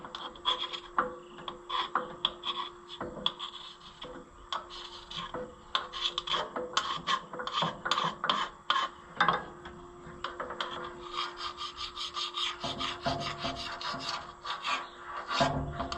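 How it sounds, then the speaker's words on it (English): A metal scraper rasps repeatedly over the gasket surface of an Allis Chalmers 200 tractor, producing close, uneven bursts of scraping and filing strokes without speech. "I'm trying to get this gasket surface clean. And it's not proving easy."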